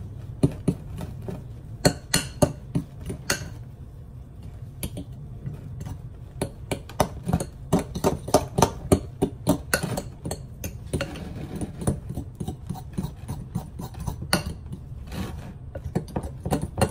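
Fork beating a microwaved mixture in a bowl for homemade clown ice pops: rapid irregular clicks and taps against the bowl continue throughout, close and fairly quiet, with no talking.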